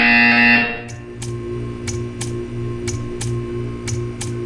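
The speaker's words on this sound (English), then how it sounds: "You will hear a buzzer. When you hear the buzzer, stare at the art." Portal 2 game buzzer: a loud electronic buzz lasting under a second cuts off into a steady series of sharp, evenly spaced ticks over a low mechanical hum.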